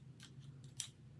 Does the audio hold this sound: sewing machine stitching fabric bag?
no